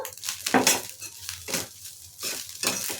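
Egg fried rice being mixed in a pan, repeated close scraping and clinking of a spoon against metal in bursts, with a faint sizzle between strokes.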